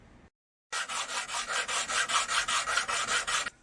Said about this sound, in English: So I'm simply going to use my sanding block, which is just a bit of wood that I've glued some sandpaper to.